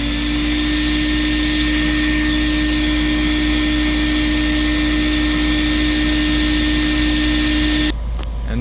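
Tristar CXL vacuum cleaner running on its high speed setting, a loud steady motor drone with a constant tonal hum that cuts off abruptly near the end.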